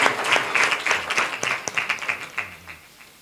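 A church congregation claps for children after they sing on stage at a Christmas celebration prayer service, a scattered, moderately distant patter of hands that swells and then thins out over a few seconds.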